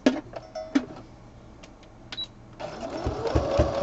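A sewing machine stitching fabric sections runs after a few scattered clicks and knocks, building into a steady mechanical whirring rattle toward the end, fairly close with no talk.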